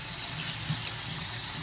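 Cold tap water runs steadily into a bowl of rice and beans being rinsed by hand in a kitchen, a continuous close splashing gush with no talk.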